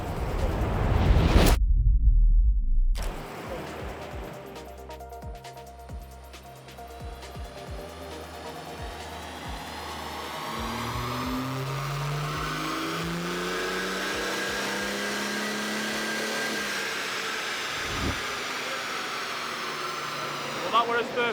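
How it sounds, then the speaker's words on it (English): A BMW 435d with a tuned N57 diesel engine makes a nitrous pull: a sharp burst, a short gap, then a long rising engine drone that builds steadily and stays loud to the end. "that was his first nitrous pull"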